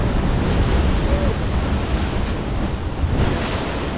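A large ocean wave crashing in on a rocky Hawaiian lava-field shore, a loud continuous wash of surf and spray with wind noise, no talking.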